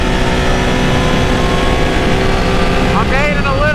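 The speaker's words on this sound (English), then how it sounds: "I hit rev limiter. I hit governor." A Can-Am ATV, Renegade or Outlander, accelerates hard and holds a loud, steady high-revving engine note that wavers near the rev limiter toward the end, close to the microphone.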